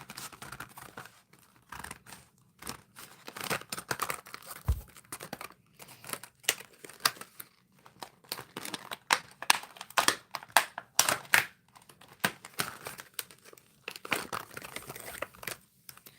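A Damsel in Defense self-defense product package being cut open and unwrapped, with repeated crinkling and tearing bursts of plastic and paper alongside snips, close and fairly quiet, without talk.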